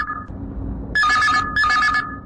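A telephone rings with an incoming call to a Chhattisgarhi song request radio show, two loud electronic trill bursts following a brief faint ring, close and clear over a low background hum.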